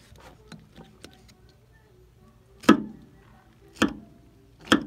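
Knife slicing through a flathead catfish being filleted, heard as three sharp, close cutting strokes spaced about a second apart, following a few softer scrapes and taps.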